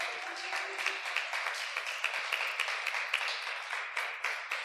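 Audience applause at a Holy Week church service, a sustained wash of clapping from a crowd, steady and moderately distant throughout.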